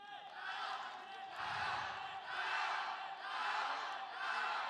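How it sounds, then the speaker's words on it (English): A hometown crowd in the stands at a world wushu championship cheers loudly for a United States athlete, a steady roar that swells and fades in waves, with no talk over it. "You can hear the hometown crowd cheering loud in the stands."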